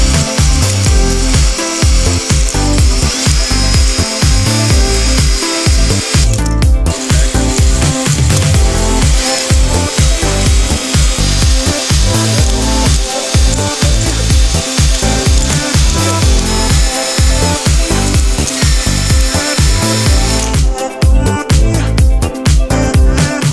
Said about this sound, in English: this fancy cylinder honing tool right here, which just goes on a drill and just spins in there